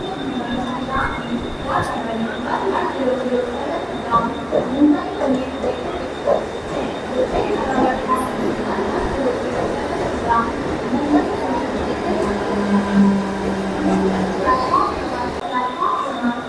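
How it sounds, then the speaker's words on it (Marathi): An air-conditioned local train runs past a Mumbai railway platform with a steady, loud rumbling roar and a thin high whine throughout, while crowd voices murmur under it. "शिवांग मेट्रो नाही ती AC लोकल आहे"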